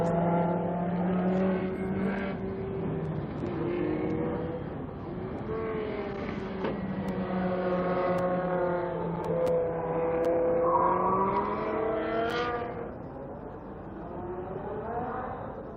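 Fiat 500 Turbo race cars at the start of a track race, several engines droning and revving together at steady volume, pitch sweeping up and down as they pull away from the start-finish line.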